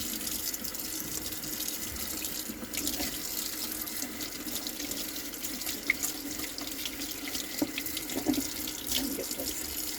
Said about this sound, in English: Get my paper towel and turn this water back on again.